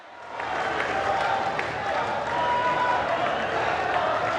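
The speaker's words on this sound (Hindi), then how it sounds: "एक बार ताली बजाकर स्वागत करें" Audience at a large public gathering in India applauding to welcome a speaker, clapping swelling in after a quiet start and holding as a steady, dense roar of many hands with crowd noise.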